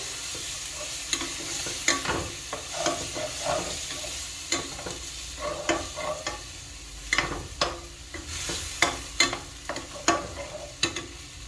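Stirring cheeseburger macaroni sauce in a pan: a spoon scrapes and taps against the pan in a loose, repeating rhythm over a soft background sizzle, close and clear with no voices.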